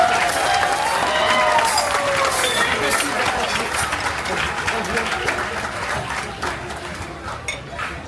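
A Royal Caribbean cruise audience gives dense, sustained applause with crowd noise and the chink of dishes, loud at first and slowly thinning toward the end while a voice speaks over it.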